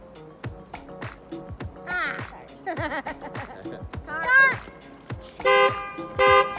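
A passing car honks on a road, giving short toots, with louder bursts near the end, over lively chatter and laughter from people nearby.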